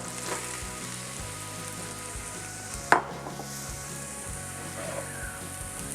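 Cauliflower sizzles as it cooks down in a pot, a steady crackling fry with a low hum beneath and one sharp clank of a utensil against the pot partway through.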